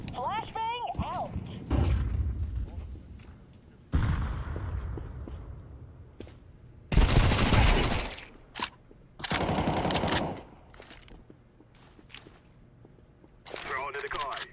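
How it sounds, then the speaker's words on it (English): A flashbang grenade is thrown and detonates: several loud, sharp broadband bangs and rattling bursts land among rapid gunfire, with voices talking between the blasts. "Flashbang out."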